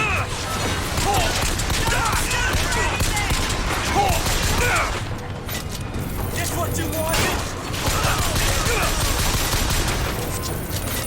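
Rapid, sustained gunfire from Bioshock Infinite rattles in dense bursts, with mechanical clatter between volleys and a player talking over the shooting.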